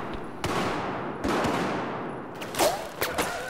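Sniper fire in Battlefield 4 cracks out as several sharp, separate shots spread over a few seconds above a steady rumble of battle, with a couple of nearer reports toward the end.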